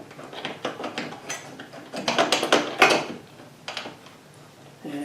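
A 3mm hex driver turns screws into a linear rail plate on a 1200 mm ball screw slicing system, giving a run of small metallic clicks and ratcheting taps at close range, with quieter stretches in between.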